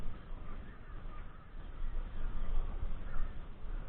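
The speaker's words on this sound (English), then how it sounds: "Man, there's a lot of birds out here today." Crows caw outdoors by the water at a magnet fishing spot, their calls blending with steady wind and background noise, moderately distant and fairly faint.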